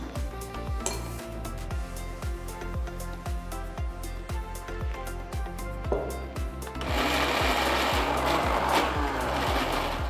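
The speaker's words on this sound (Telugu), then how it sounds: "కొద్దిగా నీళ్లు పోసి గ్రైండ్ చేసుకోండి" Mixer grinder whirring steadily as it grinds mint chutney with a little water in the jar, loud and close with a rhythmic chugging pulse, then rising into a harsher, busier roar near the end, with no talking.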